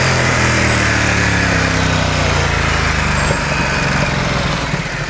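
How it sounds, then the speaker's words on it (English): A Ducati XDiavel S motorcycle with its stock exhaust runs loud and close, a steady droning engine note holding constant with a slight dip near the end, no voices over it. "For a stock exhaust, it actually sounds pretty phenomenal for a stock"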